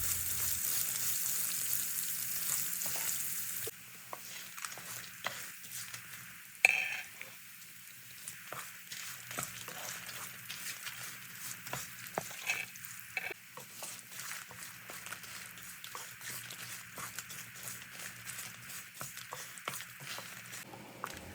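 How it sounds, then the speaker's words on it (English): About 50 grams of chopped ginger fries in a pan with a soft, steady sizzle, punctuated by occasional stirring scrapes and clinks, close and without speech. "add around 50 grams of chopped ginger. Fry it well till the raw flavor from it vanishes."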